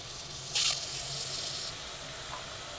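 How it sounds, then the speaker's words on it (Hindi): Water poured into a pan of cooking Patanjali barley dalia: a sharp hissing sizzle bursts up, then eases into a softer steady hiss that fades out, faint and close, with no talk. "तीन से चार गिलास पानी डालेंगे।"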